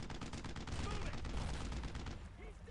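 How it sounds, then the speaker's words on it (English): Heavy weapons fire in a war video game, with an anti-tank weapon among the dense, sustained gunfire and booming blasts. The burst runs continuously at moderate level throughout, and a voice is faintly audible underneath. "That sounds like anti-tank weapon."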